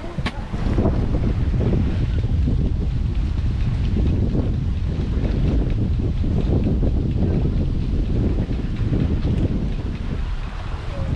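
Strong wind on a river aboard a sailboat roars and buffets against the microphone, a loud continuous rush with gusty low rumbling over faint water sounds.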